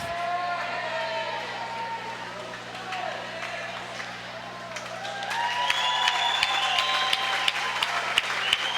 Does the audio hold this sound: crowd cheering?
yes